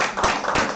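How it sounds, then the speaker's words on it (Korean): Brief burst of clapping from a church congregation at a Christmas service, a couple of louder swells of applause in a reverberant room. "우리 최은식 신부님께도 저 우리 시부님한테 박수를 드려야 돼요"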